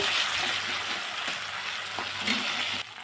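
Spice paste fries in a pan for a soybean and potato curry, giving a steady close hiss and sizzle throughout with faint stirring scrapes and no talk.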